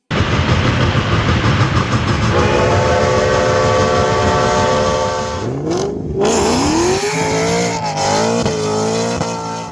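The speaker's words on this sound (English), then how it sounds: "We have a brand new Lionel Legacy diesel in the house" Lionel Legacy Norfolk and Western GP9 model diesel locomotive running with a steady rumble, then sounding a loud sustained multi-tone horn, followed by shorter horn blasts and squealing tones, close and loud throughout.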